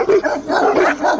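A big Presa Canario dog barks in quick, deep repeated woofs, loud and close.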